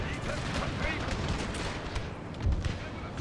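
Dense, continuous musket and artillery fire from a Thirty Years' War Habsburg battle in a Total War strategy game, a steady crackling roar with a heavier burst near the end, under a voice.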